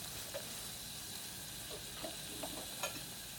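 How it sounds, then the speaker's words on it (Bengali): Spice pastes with coconut paste and nut paste sautéing in a pan, a steady faint sizzle with a few soft scrapes of stirring scattered through, no voices. "একটু বাটা মশলাও দিচ্ছি, নারকেল বাটা, বাদাম বাটা, এগুলা সবগুলা দিয়ে একটু ভালো করে কষিয়ে নিব।"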